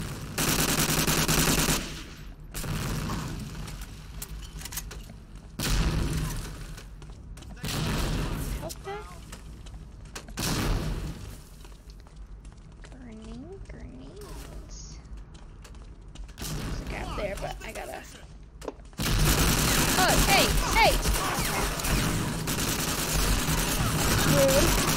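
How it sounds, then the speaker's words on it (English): Machine-gun fire in an older video game comes in repeated loud bursts several seconds apart, with dense sustained firing near the end, against quieter game ambience between volleys. "there's like a machine gun up there"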